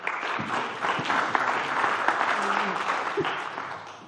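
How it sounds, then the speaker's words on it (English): A modest round of applause from an audience at a solo tech talk, welcoming the speaker Matt; scattered clapping that swells briefly and fades over about four seconds, with a few faint voices mixed in. "Let's give a big round of applause for Matt"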